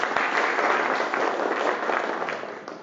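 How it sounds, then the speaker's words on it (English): Audience applause for a professor at a forum on Northeast Asian geopolitics in Jeju, a steady, full wash of clapping from a large hall that tapers slightly at the end. "let us give a big applause to the Professor"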